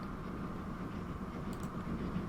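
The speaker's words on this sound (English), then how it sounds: "And there is a silver train" Silver freight train passing in Transport Fever 2, a steady low rumble of rolling wagons with a mid-pitched drone, moderately loud and continuous.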